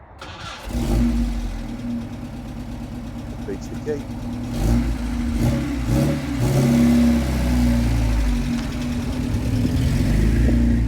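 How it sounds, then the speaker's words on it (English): A Triumph TR2 classic car engine cranks and catches, then settles into a steady, throaty run with several rising revs, close by, with someone speaking briefly at the start. "we'll start the car up, see how we get on."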